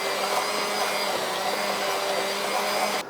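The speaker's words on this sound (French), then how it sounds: "on va mixer donc, cette piperade" A blender purées piperade, a Basque pepper sauce, with a steady, loud, continuous whir that cuts off abruptly at the end.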